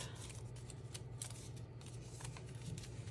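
A paper quilt template for a Hawaiian quilt being cut out with scissors, quiet crisp snips and paper rustles over a low steady hum, close but faint.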